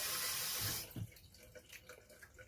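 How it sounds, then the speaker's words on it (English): A kitchen water tap runs loudly for just under a second while duck with cherry sauce is being cooked, then shuts off, leaving only faint clinks and room noise. "the sound of the fucking tap going off"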